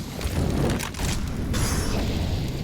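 Grenade blast in Counter-Strike during a competitive match: a muffled, rumbling boom mixed with other gameplay noise, fairly loud but indistinct, with a second burst of noise partway through.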